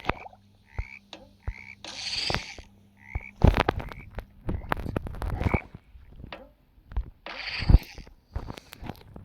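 Frogs croak in a video game, short repeated throaty croaks spaced in a loose rhythm, mixed with splashing and bursts of rushing water, fairly close and clear.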